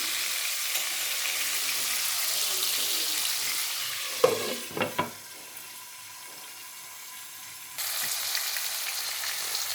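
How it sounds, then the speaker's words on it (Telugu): Tomatoes sizzle and fry in a pan for a stuffed eggplant curry, a close hiss broken by a few clattering stirs. The sizzle drops quieter for a few seconds, then swells back up. "టమోటాలు కూడా వేగిపోయాయి."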